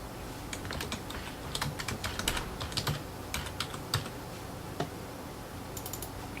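Someone types a folder name on a computer keyboard: a quick, irregular run of crisp key clicks in small bursts, close and clear, with brief pauses between groups and no voices.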